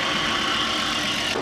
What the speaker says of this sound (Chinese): 让发动机运转一会啊，看有没有漏油漏水的位置啊